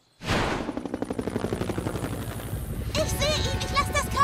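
A cartoon helicopter flies in a rescue scene at a Ferris wheel, its steady rotor chop loud and continuous, with brighter tonal effects and music-like sounds joining near the end.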